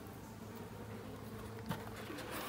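Buckfast honeybees hum and buzz softly around an open hive during a colony inspection, a continuous low drone with a brief sharper bump near the middle.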